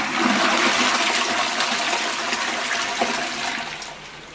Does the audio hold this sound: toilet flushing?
yes